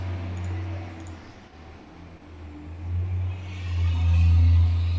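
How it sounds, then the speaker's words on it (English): Trucks roll past outside, a low rumble that dips and then swells louder as heavier traffic passes near the end, with no talk. "Wow. No shortage of trucks. Just rolling by."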